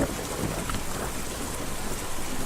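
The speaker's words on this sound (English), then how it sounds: "What a storm. This is quite the rainstorm." Steady downpour during a rainstorm in Kentucky Route Zero, loud continuous rain hiss with a low rolling rumble underneath, constant from start to finish.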